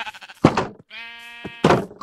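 A black sheep in the video game Minecraft gives a single drawn-out, wavering bleat, loud and close, set between short bursts of game sound effects.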